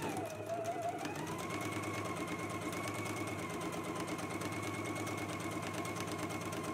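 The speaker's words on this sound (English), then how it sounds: "I'm gonna finish off the edge with the serger" A serger overlocks the raw edges of a skirt's side seams, its motor humming steadily with a fast, even stitching chatter that runs loud and unbroken the whole time.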